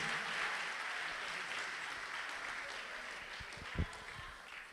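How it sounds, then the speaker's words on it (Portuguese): A church congregation applauding in praise, steady and fairly distant clapping with a few louder knocks near the end. "Vamos aplaudir mais forte ao nome do Senhor Jesus"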